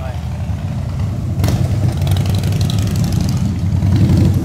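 Harley-Davidson motorcycles arriving with engines running, a low rumbling idle that swells slightly louder, heard under ongoing conversation.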